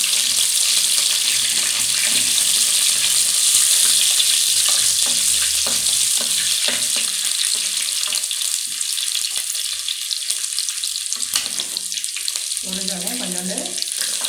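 Garlic and finely chopped ginger fry in hot oil with popped mustard and fenugreek seeds, a loud close sizzle with scraping stir strokes that thins out toward the end.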